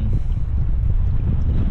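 Strong wind buffets the microphone in a constant low roar, loud and close throughout the short clip, on a kayaking trip around the islands of Barra and Mingulay.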